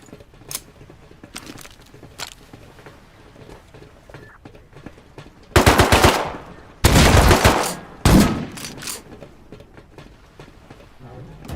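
Bursts of gunfire crack loudly around the player from an elevated position in the survival game Rust, with a few sharp volleys after scattered quieter shots; a voice talks in between.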